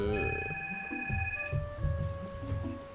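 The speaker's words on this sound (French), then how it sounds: "Ah, le téléphone." A telephone rings with a sustained electronic tone that shifts pitch a few times, set against a low rhythmic game music background in Zelda Twilight Princess.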